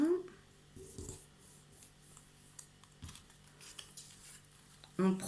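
Scissors snip paper a few times with short crisp cuts, separated by pauses, close by and quiet against soft background rustling.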